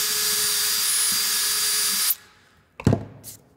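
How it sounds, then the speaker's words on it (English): A cordless drill bores a hole into a piece of wood with a steady, high whirring whine, then stops abruptly, followed by a couple of close clunks as the drill is pulled away. "That is how you drill a hole into a piece of wood."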